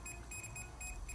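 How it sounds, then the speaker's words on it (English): A Fluke 117 multimeter's voltage detector gives rapid high-pitched electronic beeps, pulsing in a quick repeating pattern over a low hum as it senses live power, close and steady. "beeping is indicating that there is some power"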